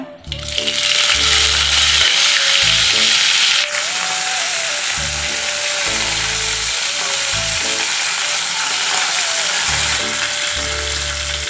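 Dried red chillies and curry leaves crackle and sizzle in hot oil with mustard seeds for a raw mango pachadi, a loud steady frying hiss that runs throughout and eases slightly partway, with intermittent low tonal hum beneath.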